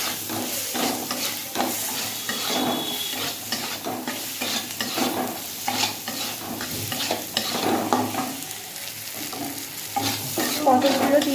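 Green chillies and masala sizzle and crackle in hot oil while a spoon stirs and scrapes the pan steadily, loud and close, with no voices.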